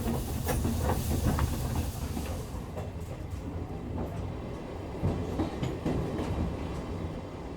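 A tourist steam train on Japan's Oigawa Railway rolls along the track, giving a steady rumbling clatter of wheels with rhythmic clicks at moderate loudness.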